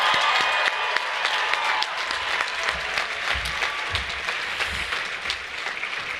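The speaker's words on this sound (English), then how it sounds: "Please give another round of applause to our students graduating with their doctoral and master's degrees" Sustained audience applause for graduating doctoral and master's students at a university year-end ceremony, a dense wash of many hands clapping steadily throughout, loud and continuous with no talk.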